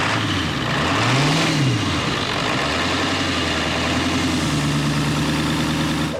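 A Ford F350 truck engine idles steadily and loudly up close, with a brief rev rising and falling near the start before settling back into an even low rumble.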